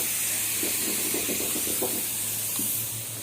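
Garlic sizzling in hot oil for a toor dal and drumstick curry, a steady close hiss with a few soft crackles and light clatters partway through, no talking.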